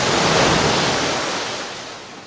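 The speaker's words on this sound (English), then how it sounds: "While a mighty wind swept over the waters." A mighty wind sweeps over open water, a dense, steady rushing roar like wind and surf together, loud and close, easing slightly toward the end with no voices.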